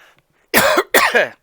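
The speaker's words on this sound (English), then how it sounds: "Cough, cough, choke, choke." Two harsh, loud coughs in quick succession from a video game character, close up, raspy and strained as if choking, with nothing else around them.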